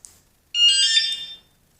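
Alarm on a Honda Shadow VT500c motorcycle sounds once as a loud, bright electronic chirping tone, about a second long, after a faint click, then stops.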